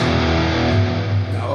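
An electric guitar runs through an Archetype Petrucci amp-simulation plugin with heavy reverb, giving a thick, distorted, sustained chord that rings continuously and fills the space.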